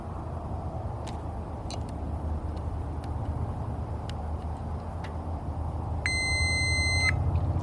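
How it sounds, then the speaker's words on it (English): A multimeter beeps on a continuity check across automotive fuses on a Lexus GS, a steady electronic tone lasting about a second near the end, over a constant low background rumble. "See, that one has continuity, makes noise."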